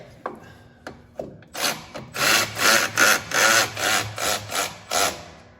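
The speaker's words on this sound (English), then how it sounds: "I'm using this power ratchet, but you can just use a regular ratchet." Power ratchet snugging the battery bracket on a Gravely ZTHD mower, a few sharp clicks and knocks, then a run of about eight rapid buzzing bursts of ratcheting, close by, no talking.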